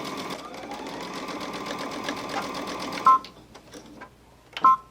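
A domestic sewing machine runs in a steady, fast stitching buzz for about three seconds while sewing a fabric purse organizer, then stops and gives a couple of short back-tack bursts, close and clear.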